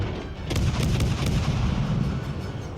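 Heavy warship artillery fire in World of Warships Legends, a run of loud booming salvos overlapping into a dense, rumbling barrage that continues throughout with no voices.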